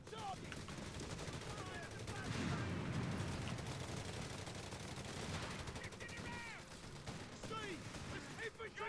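Machine gun fire in the video game Company of Heroes 3 comes in repeated bursts over a busy, quiet battle soundscape.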